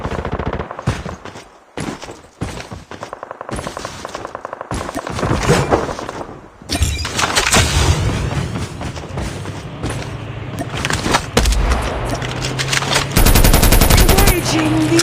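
Krig 6 rifle gunfire in a Call of Duty Mobile battle royale match, loud rapid bursts and sustained automatic volleys with booms and game effects layered throughout.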